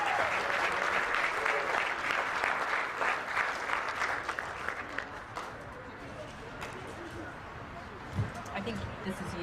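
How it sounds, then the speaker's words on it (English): An audience at a charity golf tournament gives a sustained round of applause, dense clapping that gradually thins and fades over several seconds. "So give him a round of applause."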